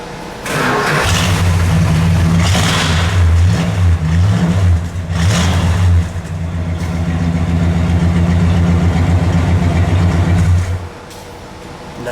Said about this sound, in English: Nice idle.